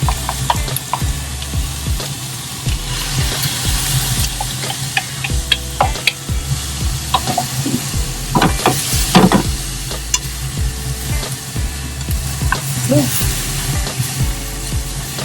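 Beaten egg cooking with tofu, bitter melon and pork in a pan: continuous close sizzling with frequent rattling clicks and scrapes of a spatula stirring, and a brief faint voice at one point.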